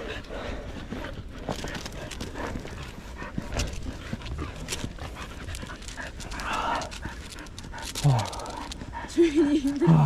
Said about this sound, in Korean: 강아지가 있습니다.